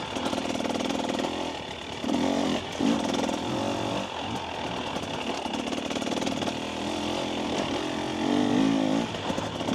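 A 2024 KTM 300 EXC dirt bike ridden along forest trails, its engine buzzing steadily and loud throughout, rising and falling with throttle, close to the rider with no talk.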